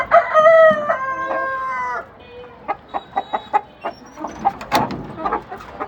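Columbian light Brahma chickens in a backyard pen: a long, loud rooster crow opens, then a run of short, rhythmic clucks close by, with more scattered clucking toward the end and no talking.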